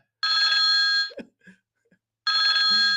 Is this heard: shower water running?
no